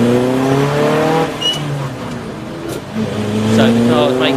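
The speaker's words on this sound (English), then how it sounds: "So the cars making their way to the grid" Race cars for a 750 Motor Club enduro at Snetterton, VW Golf and Audi TT TDI entries among them, roll toward the starting grid with steady engine drone and gear changes, while a commentator talks over them.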